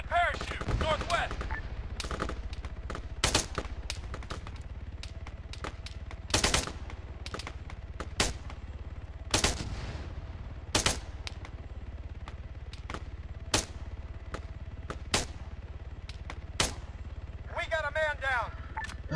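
Squad gunfire in Arma 3 aimed at a parachute: sharp single shots and short bursts crack out at irregular intervals over a low engine drone, with radio-style voices calling out between them.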